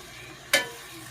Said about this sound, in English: we'll let this do a little frying right here.